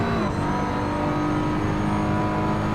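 A BMW M4 GT3 race car in a racing video game at the Nürburgring screams under steady hard acceleration, its engine note loud, continuous and close, with a dense whining roar and no pauses.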